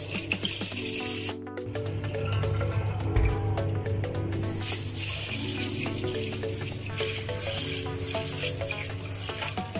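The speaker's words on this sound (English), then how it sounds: "So we have to wash it. Wash it thoroughly." Fresh oregano leaves washed under running water, a steady close stream splashing and trickling with small drips and clinks throughout.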